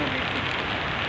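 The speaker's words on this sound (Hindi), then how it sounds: "हम दोनों के हाथ में अम्ब्रेला है, बारिश हो रही है" Steady rain pours on a mountain trek toward Neelkanth peak, a dense, even hiss of drops drumming on umbrellas and ground that fills the whole moment at close range, with a faint voice murmuring beneath.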